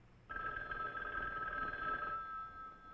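An old-style telephone bell rings loud and continuous for about two seconds in a 1961 television drama, starting abruptly and then cutting off, with no voices over it.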